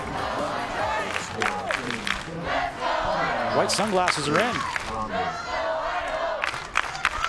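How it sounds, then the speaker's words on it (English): Large crowd cheering and shouting for the Idaho team at a Little League Northwest Regional semifinal, Coeur d'Alene against Beaverton, a loud sustained roar with whoops rising midway while a commentator talks over it. "They're cheering for Idaho."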